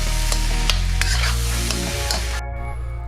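Pork fried rice, St. Louis style, stir-fries in a hot pan, with steady sizzling and scraping heard beneath a tonal musical backing that cuts out near the end.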